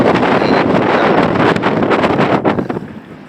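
Strong wind on a building rooftop at sunset roars and buffets against the microphone in a continuous rumbling rush, easing off slightly toward the end.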